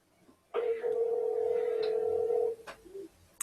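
A telephone call placed live on a podcast: a single steady ringback tone held for about two seconds after a click, then a brief fainter tone, with quiet room noise around it.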